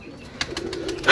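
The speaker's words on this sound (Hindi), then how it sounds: "वाह बड़ा तगड़ा कबूतर है" A large pigeon cooing nearby in a low, soft rolling murmur, with a brief sharper sound near the end.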